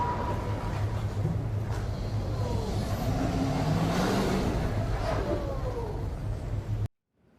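A car plows into a vehicle in a presidential motorcade, with steady road and engine noise, a swelling vehicle roar in the middle and a sharp burst of impact near the end, no talk, cutting off abruptly.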